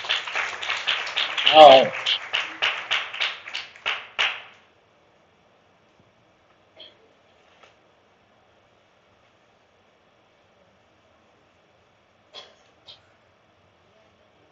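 An audience at a Sunday church reflection claps in quick, rhythmic unison for about four seconds while a voice speaks briefly over it. Near-silence follows, broken by a few faint, isolated sounds.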